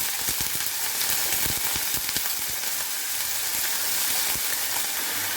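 Eggplant and broad beans go into a pan of fried onions, giving a close, steady crackling sizzle broken by sharp scraping and clattering stirs, with no speech.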